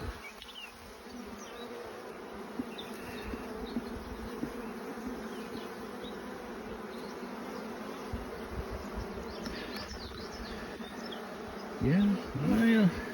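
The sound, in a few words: honey bees buzzing during hive inspection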